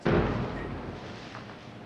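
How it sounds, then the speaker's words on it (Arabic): A large explosion during armed clashes in Jenin refugee camp opens with a sharp, loud blast. A rumbling tail then fades over about two seconds, heard alone. "انفجار ضخم آخر الآن نرصده على الهواء مباشرة"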